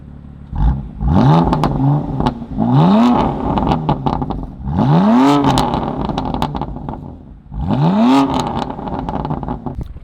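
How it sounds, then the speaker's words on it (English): A BMW M2 Competition engine revs hard several times in a row through equal-length resonated mid pipes, each rev rising sharply then dropping away, with a throaty exhaust and short pauses between. "I'll give you a couple revs and you guys can hear what it sounds like"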